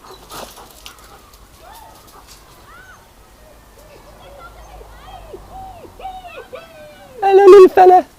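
A small puppy gives a string of thin, high whimpers and squeaks, soft and close, with a louder burst of yelps at the end.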